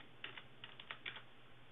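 Typing on a computer keyboard, a handful of light, quick key clicks in a short uneven burst, faint and close against a steady background hiss.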